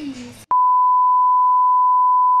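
A censor beep sound effect cuts in sharply after a moment of speech, then holds as a single loud, steady tone to the end.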